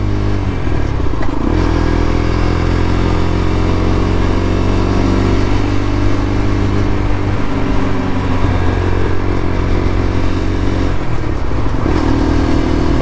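A motorcycle fitted with a new exhaust revs in second gear on a cold, rain-dampened morning, its engine note loud and close, holding a steady throaty drone with brief dips as the throttle rolls off and back on.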